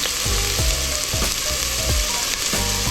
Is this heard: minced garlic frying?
yes